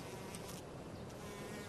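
Wasps buzz steadily around a praying mantis, a faint, continuous insect drone with no voices, holding level throughout.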